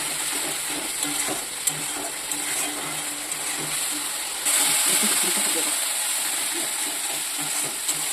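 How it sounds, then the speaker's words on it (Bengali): A spiced masala paste of turmeric and cumin, loosened with a little water, fries and sizzles in a pan for Bengali taro greens, giving a steady hiss with faint stirring clinks throughout that grows louder and brighter partway through. "তো দেখতেই পাচ্ছেন মশলাটা আমার কষা হচ্ছে।"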